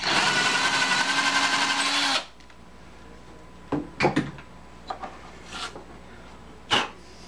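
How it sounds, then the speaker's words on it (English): A power drill whirs loudly and steadily for about two seconds, drilling out an old foot hole on a Pioneer turntable, then stops, followed by a few scattered clicks and knocks in a quiet room. "Drill out the old hole, go right into the hole that's already there"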